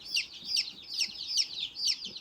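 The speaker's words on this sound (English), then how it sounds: "They're chirping and tweeting and just being happy." Baby chicks chirp loudly and close by in a steady run of shrill, repeated peeps, with no talking over them.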